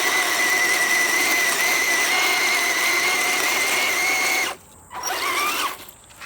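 A 1:12 scale RUKO Q111 RC military tank runs its tracks at full speed while stuck and digging into the ground, a steady loud electric motor whine that cuts out briefly near the end, then surges again and stops, with no talk.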